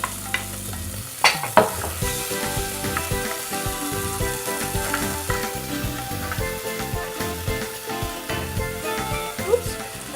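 Chive hits hot oil in a pan and sizzles steadily, with sharp crackles at first and occasional clinks of stirring over the constant frying hiss.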